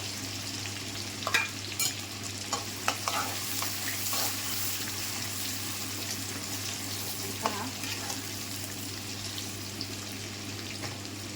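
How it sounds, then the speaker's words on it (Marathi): Finely chopped onion fries in a pan for dhaba-style dal tadka, stirred until browned: a continuous sizzle with a few sharp spoon scrapes and taps. "तर आपला कांदा पण चांगला तळून घ्यायचा आहे, ब्राऊन करून घ्यायचा आहे चांगला."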